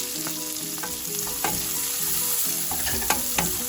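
Onions and garlic fry in a hot pan for chicken pastel, a loud, close, steady sizzle broken by scraping stirs and a few sharper crackles, with no talking.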